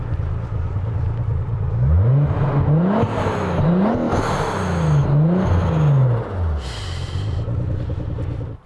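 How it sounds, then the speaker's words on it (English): A Nissan 300ZX Z32 engine fitted with an X-pipe exhaust revs repeatedly in smooth, rising and falling sweeps, loud and close throughout with no talking. "And I think that's where you get the much different exhaust tone while revving."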